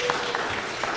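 Applause from an audience at a city land use and transportation committee meeting, a brief steady patter of clapping heard in the room.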